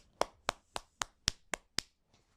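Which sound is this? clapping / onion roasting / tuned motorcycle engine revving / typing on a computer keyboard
clapping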